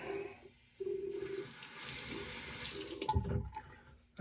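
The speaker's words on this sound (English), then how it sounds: "Let me just do a quick rinse" A tap runs water to rinse a stainless steel razor during a shave, a close hissing stream that starts and stops, swells briefly, then cuts off.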